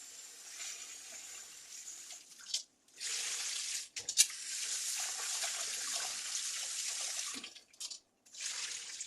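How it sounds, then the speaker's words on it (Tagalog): Running water splashes steadily into a pot with brief pauses and sloshing as rice is rinsed under a tap. "magsayin na tayo ng bigas"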